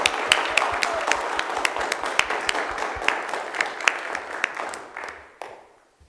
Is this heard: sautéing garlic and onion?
no